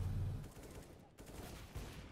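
Gunfire from the Counter-Strike video game, a few sharp shots in quick succession at moderate loudness over steady game ambience, with no talking.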